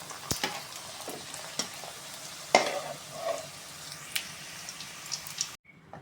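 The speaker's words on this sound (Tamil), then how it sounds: "எண்ணெய் நல்லா மேலே மொண்டு ஊற்றி அமுக்கி விட்டு திருப்பி விட்டுக்கணும்." Puris deep-frying in hot oil sizzle softly up close while oil is ladled over them, with sharp taps and scrapes of the ladle pressing down, ending abruptly.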